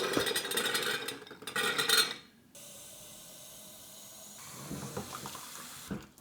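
Water from a tap poured into glass jars half filled with soaked beans, a loud splashing gush for about two seconds, then quieter running and trickling water with faint clinks.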